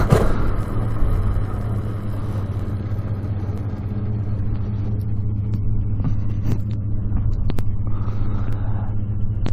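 Kawasaki KX420 420cc dirt bike engine running after a bump start, a steady loud low rumble that holds throughout with slight revving swells, close by and with no talk over it.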